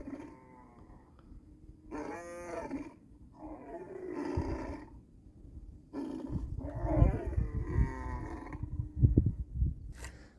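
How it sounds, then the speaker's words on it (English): A lioness roars in a string of deep, throaty, harmonic bursts with breathy grunts between them, growing louder and rougher toward the end. "So that's a lioness roar."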